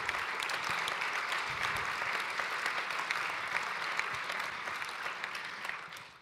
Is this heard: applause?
yes